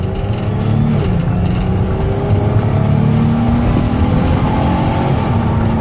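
A 2014 Dodge Caravan minivan engine drones steadily and loud as it accelerates on a highway, with rising harmonic tones and road roar underneath throughout.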